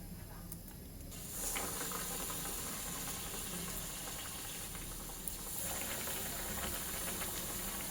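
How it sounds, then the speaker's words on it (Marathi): Vada pav vadas deep-frying in hot oil give a steady, dense sizzling hiss that swells after the first second and keeps bubbling evenly, with no voices over it. "तर आपण आता वडे तळायला सुरुवात करूया."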